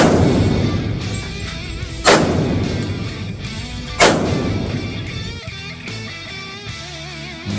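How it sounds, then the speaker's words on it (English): A WWII-era 1911 A1 pistol firing at a target seven yards away, with three sharp, loud gunshots spaced about two seconds apart, each followed by a ringing decay. "3 shots at 7 yards"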